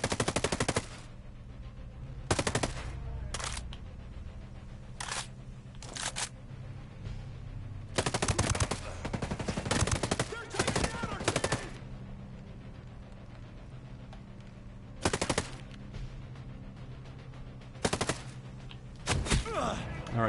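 Sniper gunfire in the video game Ghost Recon Breakpoint: a string of loud, sharp shots spaced irregularly over a quiet low background, with no talk.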